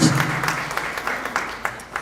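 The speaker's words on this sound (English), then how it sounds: "another round of applause for the chief for coming forward with his speech" An audience at a media and information literacy conference in Matabeleland applauds, a short burst of scattered clapping that thins out as it goes, with a voice briefly heard at the start.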